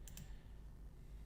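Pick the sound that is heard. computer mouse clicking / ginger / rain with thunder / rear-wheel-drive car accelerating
computer mouse clicking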